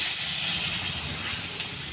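Ginger frying in a little oil in a pan, a steady close hiss of sizzling oil that fades slightly, with no talking.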